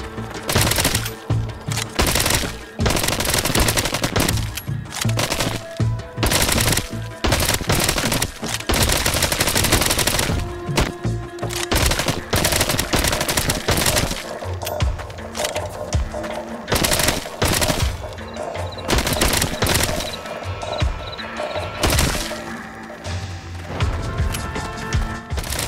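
Automatic gunfire in the VR zombie game Arizona Sunshine, rapid repeated bursts of shots with short pauses between volleys, loud and close throughout.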